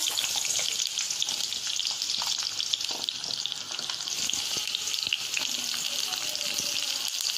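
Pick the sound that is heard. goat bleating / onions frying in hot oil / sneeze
onions frying in hot oil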